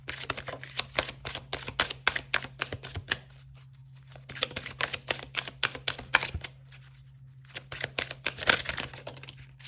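Oracle and tarot cards are shuffled and drawn, giving bursts of rapid crisp card flicks and riffles separated by brief pauses, close and quiet over a low hum.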